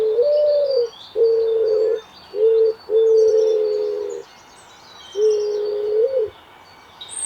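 Socorro doves at Paignton Zoo give close, clear coos, five long notes with short gaps between them, against a quiet background.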